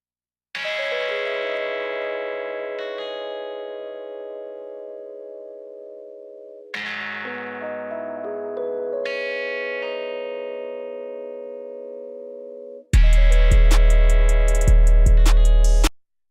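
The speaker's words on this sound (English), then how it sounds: "You hear how distorted the guitar is." A heavily distorted guitar sample in a beat, with long ringing chords that decay and restart in phrases before a loud, dense burst near the end, played alone without talk.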